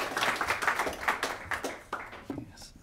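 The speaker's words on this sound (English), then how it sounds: "See if I deserve the applause by the end" Scattered, thin audience clapping at a social prescribing launch event, a short burst of uneven claps at moderate distance that thins out toward the end.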